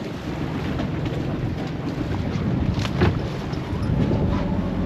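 Small sailboat motoring out of a little harbor in the Norwegian archipelago, with steady broadband wind rumble buffeting the microphone and a low continuous engine-and-water wash throughout, no talking.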